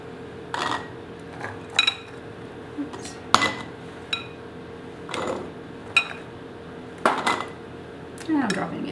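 Chickpeas are spooned into glass canning jars, giving a series of close, sharp clinks and taps of a metal spoon on glass at irregular intervals, with soft scraping between strikes.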